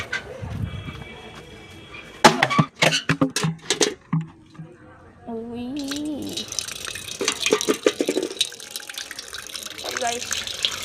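Water runs from a tap with splashing and clatter, interrupted by voices and other handling noises.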